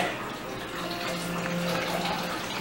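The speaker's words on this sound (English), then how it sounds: "fill your tube with water" Water runs steadily from a tap into a siphon tube, a soft continuous splashing rush lasting a few seconds with a faint ringing tone underneath.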